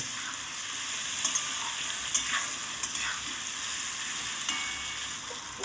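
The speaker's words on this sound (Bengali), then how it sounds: "এবার ভালো করে নেড়ে চেড়ে আমি ভেজে নেব" Vegetables for a spinach curry hiss and sizzle steadily in a pan, with occasional scraping from stirring; no voices.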